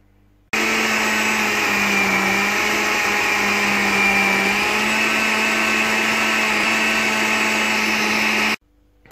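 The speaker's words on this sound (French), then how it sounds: "Après que nos légumes sont cuits, on va les mixer." A countertop blender runs loud and steady for about eight seconds, purée-ing cooked vegetables for Moroccan harira soup, its motor whirring alone with a constant drone before cutting off abruptly.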